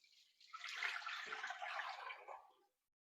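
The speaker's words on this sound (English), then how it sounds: "I'm going to cover it completely with water." Water pours steadily from a tap into a cooking pot holding a whole hen, a soft, continuous rushing splash lasting about two seconds before cutting off cleanly.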